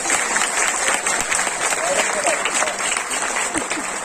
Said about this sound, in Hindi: एक बार मिलकर तालियां बजाओ